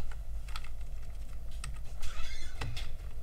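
Someone types an item name on a computer keyboard in a steady run of close, crisp key clicks, with a faint low hum in the background.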